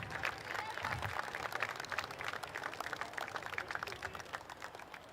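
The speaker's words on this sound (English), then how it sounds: "If we can give them a big round of applause, please." A crowd applauds match officials at a rugby league grand final presentation night, a dense, steady patter of many hands clapping throughout.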